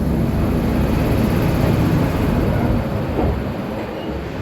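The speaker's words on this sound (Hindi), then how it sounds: "अरे बिहार संपर्क क्रांति एक्सप्रेस, लेजेंडरी बिहार संपर्क क्रांति भाई।" The Bihar Sampark Kranti Express passes close by at a junction with a loud, steady roar and rattle of wheels and carriages that eases slightly near the end.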